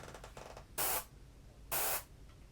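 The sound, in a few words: airbrush spraying paint through a custom stencil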